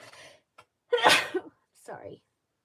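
A man sneezes once, loud and close, with a sharp burst of breath, surrounded by short breathy sounds and brief vocal noises before and after.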